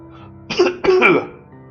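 A voice imitates a cough in a reading of Poe's "The Cask of Amontillado": two quick, harsh hacking bursts in close succession, loud and near, against near silence.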